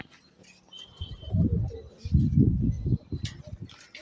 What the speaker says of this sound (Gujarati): આપણે આવી ગયા છીએ કબૂતર પાસે.